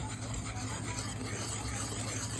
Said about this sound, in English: And we're just going to mix that all together.